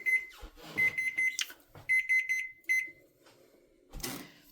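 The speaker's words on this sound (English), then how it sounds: "I'll put the timer on for an hour." A kitchen timer going off after an hour, giving several bursts of rapid, shrill beeps separated by short pauses, with a few soft knocks and clatters between them.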